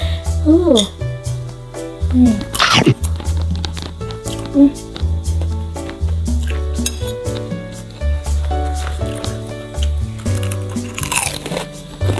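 Fried rice being eaten at close range, with crunchy bites, chewing and occasional clinks of cutlery on a plate, mixed under steady talking and background music.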